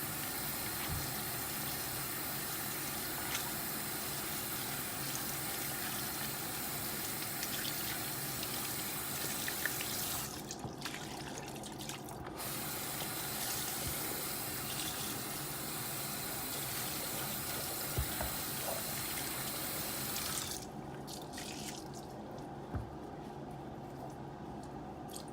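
Running water from a tap rinsing dirty shoelaces, a faint steady splashing flow with two brief pauses where the stream is interrupted.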